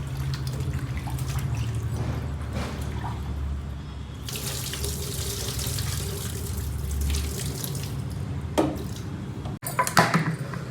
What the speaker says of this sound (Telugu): మటన్ కడిగి కుక్కర్లో వేసుకున్నామండి.